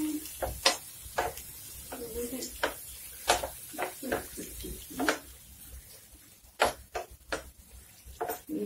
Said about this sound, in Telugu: కొంచెం కలర్ చేంజ్ అయ్యే వరకు ఫ్రై చేసుకోవాలి